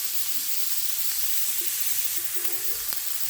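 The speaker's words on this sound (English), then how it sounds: "we're going to saute our onions and celery in the butter for probably 3 to 5 minutes" Diced onions and celery sauté in butter in a sauté pan for Thanksgiving stuffing, giving a steady, even sizzle and hiss that runs throughout with a few faint clicks, no voices.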